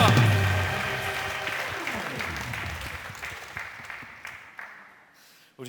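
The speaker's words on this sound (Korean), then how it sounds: "하나님께 영광의 박수 올려드리겠습니다" A church congregation at a prayer meeting applauds, with a broad wash of clapping mixed with organ or keyboard tones and ringing voices, gradually fading over several seconds.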